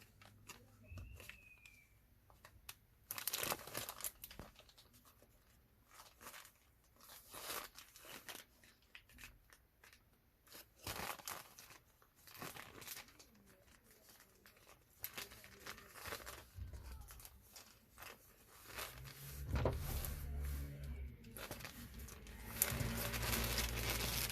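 Test probes for a Zoyi VC-17B True RMS digital multimeter come out of their packaging with quiet, intermittent crinkling and tearing, in scattered bursts against a hushed room.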